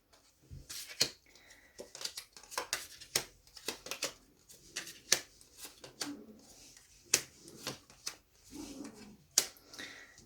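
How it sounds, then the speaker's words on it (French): Tarot cards being drawn and laid down one by one from a deck, a quiet close series of sharp papery snaps and flicks in an irregular rhythm, with no voices. "Je vais tirer 5 cartes."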